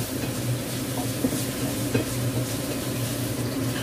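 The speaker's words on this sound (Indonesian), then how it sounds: "Ditumis sebentar." Ingredients are stir-fried with soy sauce in a pan, making a steady close sizzle with light stirring scrapes throughout.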